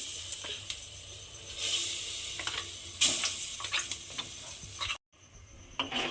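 Ground lentil paste blended with onion, garlic and green chilli fries in hot oil, a close sizzling hiss with scraping stirs, briefly cutting out near the end before resuming.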